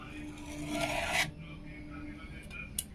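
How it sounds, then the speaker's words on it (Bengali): Short close rasping scrape of a knife cutting khaja pastry dough on a kitchen surface, about a second long, followed by near silence with a couple of faint taps. "আমি এইখান থেকে কেটে নেব"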